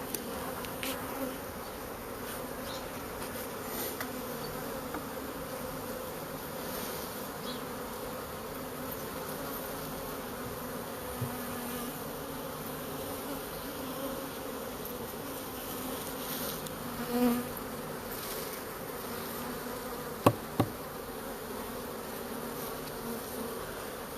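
A honeybee swarm drones steadily throughout, a dense continuous buzz of many bees with occasional louder passes near the microphone and no talk.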